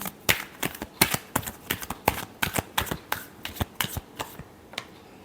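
Tarot cards shuffled by hand, a quick run of crisp riffling flicks and snaps in an uneven rhythm, close and clear with no voices.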